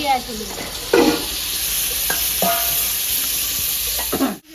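Chicken goes into a hot pan with a loud burst of sizzling, then a bright continuous hiss of frying as it is stirred, with a few scraping strokes close by before it cuts off abruptly.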